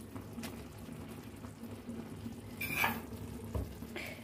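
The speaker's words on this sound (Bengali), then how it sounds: "এবার আমি মাছের তেলটা দিয়ে দেবো এর মধ্যে।" Fish oil, here the oil of rui fish, goes into a pan of softened boiled vegetables, raising a brief sizzling burst over a low, quiet simmer, with a few faint scrapes around it.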